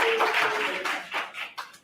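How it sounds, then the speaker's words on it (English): A live audience gives a round of applause after a group squat exercise at a property and career planning roadshow, a dense, steady patter of clapping hands lasting under two seconds, fading slightly toward the end. "I give yourselves a nice round of applause."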